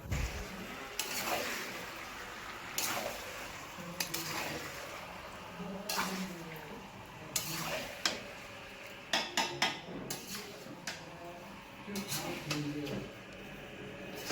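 Marinated chicken pieces go into a pan of cooked spiced masala and are stirred, with metal spoon scrapes and clinks against the pan coming in irregular bursts while someone talks in between.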